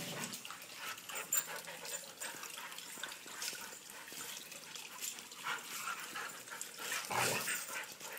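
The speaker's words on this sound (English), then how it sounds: "she and Chewbacca are playing very well together" Two dogs, one a young mixed-breed puppy, play together at home, giving off scattered soft yips, whimpers and scuffling at a low, close level, with no talk.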